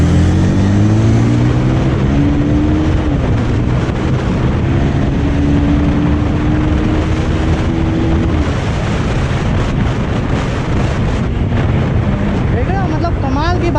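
A Bajaj Pulsar 220 motorcycle accelerates in first gear, its engine note climbing in pitch over a loud, constant rush of wind buffeting the microphone, with the revs rising again near the end.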